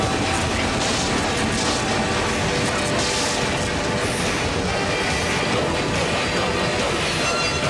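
A ghost train pulls into a station with a loud rumble of rolling wheels, rattling carriages and mechanical clatter that stays dense and steady for the whole stretch.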